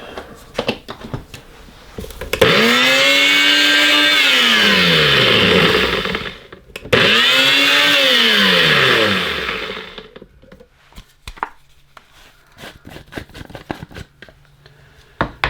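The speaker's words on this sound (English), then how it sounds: "Give this a little blast in the NutriBullet" A NutriBullet blender runs in two loud bursts on a raccoon meat mixture for batter. The motor whines up to a steady roar, then winds down, and a second burst follows after a short pause.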